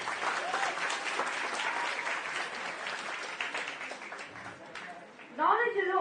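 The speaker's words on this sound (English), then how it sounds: "Can we have a thunderous round of applause," Applause from an audience after a performance at a solar mission outreach program, dense sustained clapping from a large crowd that fades near the end as a voice begins speaking.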